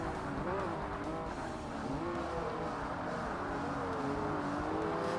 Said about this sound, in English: That sounds nice for that exhaust upgrade as well